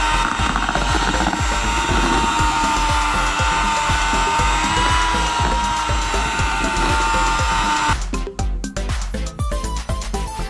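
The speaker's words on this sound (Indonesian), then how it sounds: "Setelah itu baru kita mixer lagi dengan kecepatan yang lebih rendah." An electric mixer runs steadily at a lower speed, blending cake batter for a steamed Black Forest birthday cake, with a loud continuous motor whine and churning. The last few seconds turn choppy and uneven as the mixing shifts, with no talking.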